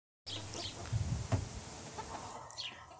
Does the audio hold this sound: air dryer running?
no